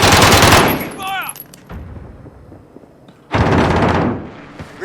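Video game machine-gun fire in two loud, close, rapid bursts, one at the start and another later on, with a quieter gap between them.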